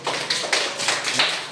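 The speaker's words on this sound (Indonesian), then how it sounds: "Tepuk tangan." Applause from a classroom of students, a burst of mixed hand claps roughly evenly loud throughout, with no voices over it.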